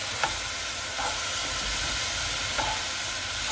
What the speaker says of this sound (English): you can see that the vegetables are steaming